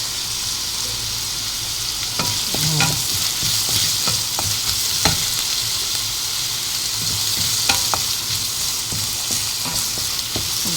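White onion frying in a pan, a steady close sizzle running throughout with scattered clicks and taps of a utensil stirring, no talk.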